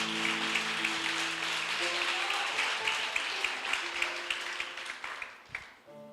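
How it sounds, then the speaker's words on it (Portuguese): A church congregation applauds steadily for several seconds, a dense wash of clapping in a large room with faint organ or keyboard tones underneath, tapering off at the end. "Pode aplaudir e glorificá-lo."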